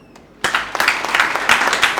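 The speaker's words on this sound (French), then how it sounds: "On peut également les applaudir." Applause at a graduation ceremony for an ESIPS health school in Thiès, honoring trained medical delegates: after a near-silent start the clapping breaks out suddenly, loud and close, and continues as a dense, lively patter.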